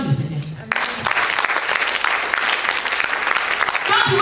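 A church congregation claps and cheers in loud, dense applause that starts abruptly after a brief spoken word and keeps going steadily, with voices mixed in.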